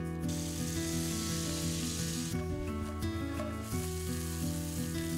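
Croutons frying in melted butter, an even, dense sizzle with faint scraping and stirring sounds running throughout, close up and with no one speaking.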